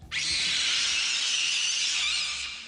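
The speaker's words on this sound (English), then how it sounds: "It's actually the scream of this new predator that it bellows throughout the film." A high, piercing creature screech rings out continuously for over two seconds, shrill and sustained, fading slightly at the end.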